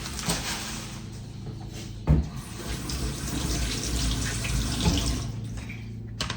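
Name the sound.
washing something under running tap water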